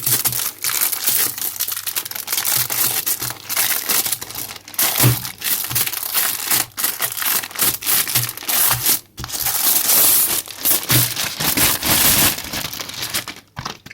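Wrapped NBA sticker album and card pack being unwrapped up close, a long run of loud plastic crinkling, crushing and tearing in irregular bursts with brief pauses, no talk.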